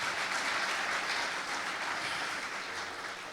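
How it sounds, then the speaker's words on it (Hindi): A congregation at a religious gathering gives dense, steady applause that holds at an even level throughout, with no talk over it. "तालियां खुदा के लिए।"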